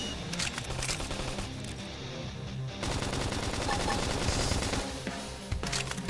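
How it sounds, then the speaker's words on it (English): Rapid automatic gunfire rattles from the Xenoblade Chronicles X video game, dense bursts layered with battle noise and music and growing heavier midway, with game voices talking over it. "Topple them with some gunfire!"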